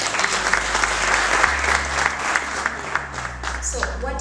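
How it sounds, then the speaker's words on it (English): An audience at the Outspired 2023 talk event applauds in a dense, steady wash of clapping that runs the full length at close range, over a low constant hum and no clear speech. "A round of applause there."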